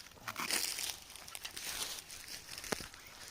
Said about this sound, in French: on va déballer tout ça de l'étui de rangement